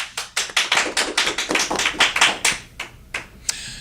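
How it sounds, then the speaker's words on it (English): A round of applause for a guest at a TV show, the clapping hands rising in quick uneven bursts for a few seconds before tapering off, close and fairly loud with no talk. "So nice round of applause for Mr. Steve Nathan."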